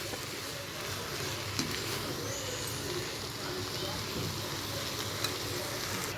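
A shark fish curry mixture sautés in a pan, giving a steady, close sizzle with stirring scrapes throughout and faint talk in the background.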